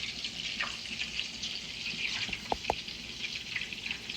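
Meatballs for Sunday sauce browning in a hot frying pan, giving a steady close sizzle with a few soft pops and clicks throughout.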